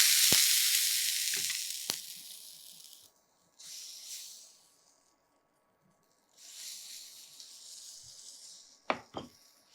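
Pepper adai batter sizzles on a hot griddle, a loud hiss that fades, then returns in softer bursts, with a few sharp clicks of a utensil near the end and no talk.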